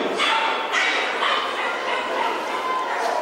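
Puppies yip and bark in an excited, dense chorus at a dog show judging, continuous and fairly loud, with crowd noise and people talking underneath.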